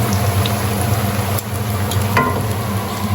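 Chicken cutlets for Chicken Milanese frying in a pan, a steady loud sizzle and crackle with no talk.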